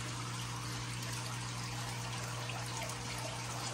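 An AQQA AQ-009 multifunctional water pump sucking up aquarium water, a steady, close hiss of rushing water over a low constant motor hum, unbroken and without talk.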